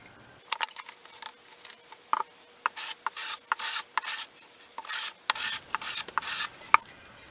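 Hand tool rounding the corners of a small wooden napkin holder, heard as short, close rasping strokes in uneven bursts separated by quiet gaps while the angle keeps shifting.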